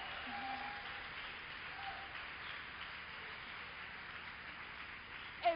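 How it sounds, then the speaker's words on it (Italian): Faint, steady applause from a music festival audience, a soft continuous patter of many hands clapping at a distance. "Vogliamo accoglierla con un grande applauso, Elisa Balsamo!"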